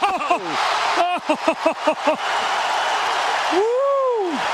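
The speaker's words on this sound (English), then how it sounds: "And the crowd responds" A basketball arena crowd at a United States Olympic game roars and cheers in a loud, continuous wash, with excited voices shouting on top and a commentator talking over it.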